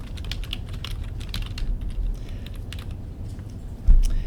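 Steady typing on a computer keyboard as text is entered into a document, with continuous fast clicking keystrokes close up and one heavier thump near the end, and no talking.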